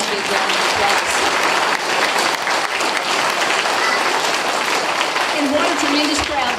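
An audience at an outdoor community event applauds, a dense sustained wash of clapping from a large crowd, loud and continuous for several seconds.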